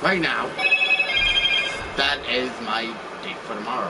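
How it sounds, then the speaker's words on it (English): A phone rings with repeated electronic tones in the background while a person talks over it, moderately loud and intermittent. "So I apologize if you guys hear my phone going off"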